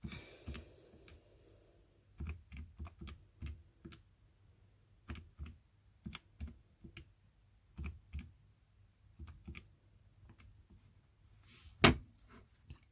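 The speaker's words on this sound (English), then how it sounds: "I'm genuinely just going to type it into a calculator" Numbers are tapped into a calculator keypad as quiet, close clicks arriving in small irregular clusters with short pauses between them. One sharper tap comes near the end, and no one speaks.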